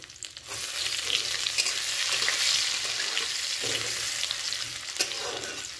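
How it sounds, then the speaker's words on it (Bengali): Halved cashew nuts frying in hot oil for pulao, giving a loud, continuous close-up sizzle and crackle that holds steady throughout with small bubbling pops, no voices. "তো এরপর আমি এই তেলে দিয়ে দিচ্ছি হচ্ছে কাজু বাদাম।"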